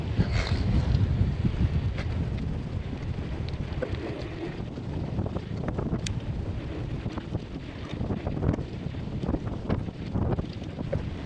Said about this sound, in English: This wind is absolutely brutal.